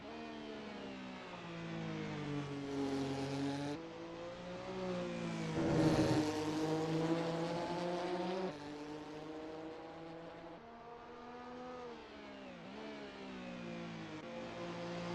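A Porsche 962C race car in Assetto Corsa drones steadily around Mugello on a slow outlap, its engine note rising and falling through gear changes with a brief louder surge midway, no voices.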